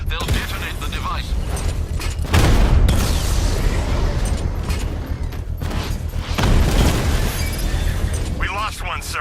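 Explosion in the video game Batman: Arkham Knight, a heavy booming blast with rumbling debris that swells around the third second and again near the seventh, mixed with game noise and voices talking over it.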